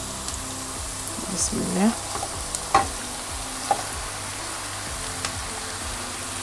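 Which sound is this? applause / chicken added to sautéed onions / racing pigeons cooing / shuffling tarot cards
chicken added to sautéed onions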